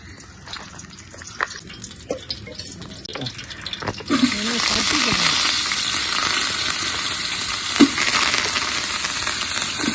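Marinated chicken hitting hot oil in a pan: a few quiet utensil clinks give way to a sudden loud sizzle that then holds steady and close until the end.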